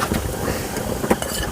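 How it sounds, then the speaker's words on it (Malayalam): Strong outdoor wind rushes steadily, with a continuous broadband roar buffeting the microphone and slight gusty surges; no one speaks. "കാറ്റ് പിന്നെ നല്ല കാറ്റ്."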